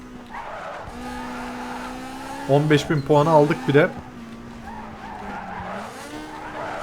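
Tires squeal and skid as a Mitsubishi Lancer drifts in the video game Need for Speed Underground 2, a short burst of screeching rising over the steady engine drone while someone talks.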